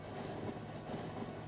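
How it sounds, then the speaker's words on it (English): Trains in the video game Factorio rumble through, a steady, dense wash of low rolling noise with faint rhythmic clatter, several crossing at once with no one talking. "There's a lot of trains crossing all at once there."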